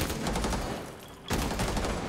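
Rapid gunfire from the Rainbow Six Siege video game, a dense burst of shots running through most of the moment with a short lull before another burst, loud and close.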